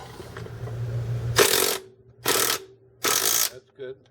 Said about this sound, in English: now it's ready for you to tighten all the bolts up